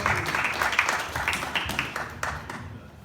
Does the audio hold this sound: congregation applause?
yes